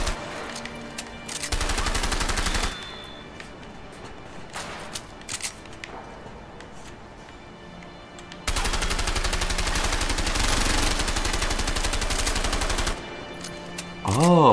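Sustained automatic gunfire with recoil in the video game A Way Out, two long loud bursts of rapid shots separated by a quieter stretch of ambient noise, with a brief tone at the end.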